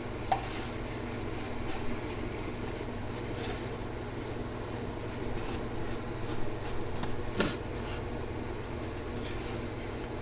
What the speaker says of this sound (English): we're going to fry the pork